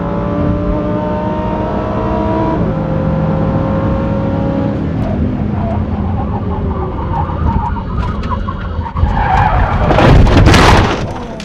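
A Lamborghini brakes hard and skids just before a crash, a loud tyre screech and scraping burst rising over steady engine noise in the last seconds, with no talk.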